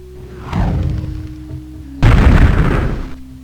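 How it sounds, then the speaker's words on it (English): Two area-of-effect spell explosions in the video game Daggerfall, a softer rumbling boom followed by a louder, sharper blast, each decaying over about a second over a low steady hum. "I can fire my area of effect spells down there and hope that one of them hits"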